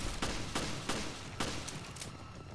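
Gunfire from the video game Resident Evil Revelations in Raid Mode: several sharp shots in steady sequence, each a bright broadband crack roughly every third of a second, loud and close, with no voices.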